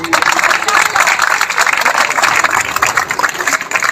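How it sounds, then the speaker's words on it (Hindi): Audience applause at a school spring festival at City Science School Multan: dense, loud, continuous clapping that holds steady for several seconds, with voices mixed in. "तालियों की गूंज में"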